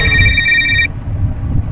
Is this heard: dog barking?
no